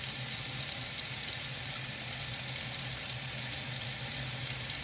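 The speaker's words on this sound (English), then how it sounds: "we'll run our hot water for a little bit here" Hot water runs steadily from a kitchen tap while a Maytag MDB4949SKZ dishwasher is being set up, a constant even hiss and splash with no breaks and no voices.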